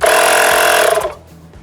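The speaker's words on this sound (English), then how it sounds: "Alright, we have power to our compressor now." A portable tire inflator air compressor for a fifth-generation Camaro runs with a loud, steady buzzing rattle for about a second, then switches off, leaving a faint low hum.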